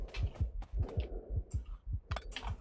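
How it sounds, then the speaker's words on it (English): An engineer's heartbeat in a factory-building video game, a steady rapid thump-thump pulse with low throbbing beats, faint and close, with a few small clicks on top. "You can hear the engineer's heartbeat"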